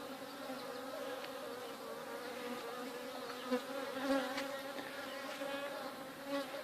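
Dense, steady buzzing of a bee colony swarm at an apiary on a hot summer day, many insects humming together close by, with no voices.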